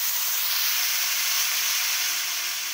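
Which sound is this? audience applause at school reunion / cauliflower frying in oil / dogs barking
cauliflower frying in oil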